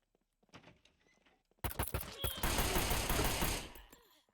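Shotguns fired by armed NPCs in the SCUM survival video game boom in a dense, loud volley of overlapping blasts that starts abruptly after a quieter lead-in and rings on before fading.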